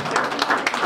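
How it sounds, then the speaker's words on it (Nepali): An audience at a chef association branch event in Pokhara, Nepal bursts into applause, a brief dense wash of clapping heard up close. "कृपया जोरदार तालीका साथमा"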